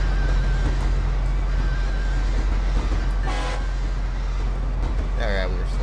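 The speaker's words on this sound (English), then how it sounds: "Brakes are kind of squeaking, which is a good sign" Diesel-electric AC4400CW freight locomotive in GTA 5 slowing down, with a steady low engine rumble and high brake squeals rising near the end, under continuous talk.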